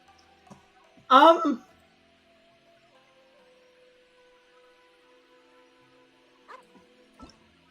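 In the video game Genshin Impact, a puppy gives a single short, clear yip-like bark, followed by quiet game ambience with a few faint clicks.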